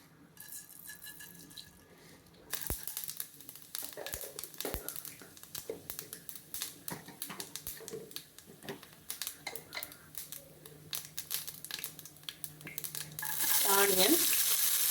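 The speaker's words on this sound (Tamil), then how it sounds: "கடுகு போட்டுக்கலாம்." Mustard seeds spluttering in hot oil for spot idli, a crackling sizzle with quick popping bursts that grows louder and fuller toward the end, with faint voices underneath.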